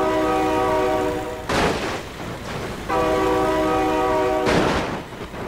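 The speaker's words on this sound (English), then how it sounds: "Oh my god, train!" A train in the BeamNG Drive video game blasts a long, loud horn twice, with rumbling clatter of passing railcars between and after the blasts.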